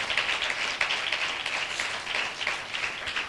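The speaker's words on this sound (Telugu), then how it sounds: "గట్టిగా చప్పట్లు కొడుతూ మహిమ చెల్లించండి" A church congregation clapping loudly during a sermon, dense continuous applause from many hands filling the space without voices.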